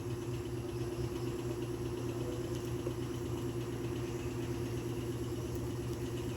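A 2006 Toyota Altis engine idles steadily with a constant low rumble and faint mechanical whir, no voices, loud and close throughout, while its cooling system is being flushed with air still inside.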